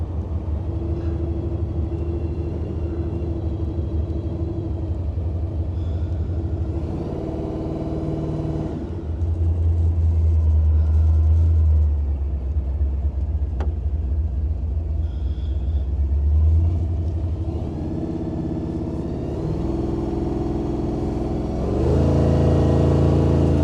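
A 1935 Ford coupe drives with a low engine rumble that swells when it revs hard mid-run, then eases back as it slows into a tight corner.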